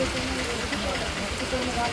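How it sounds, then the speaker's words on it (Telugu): Heavy rain pours down outdoors during a flood, a steady dense hiss filling the whole stretch without a break, with faint voices murmuring beneath it. "చూడండి వర్షం ఏ విధంగా పడుతుందో"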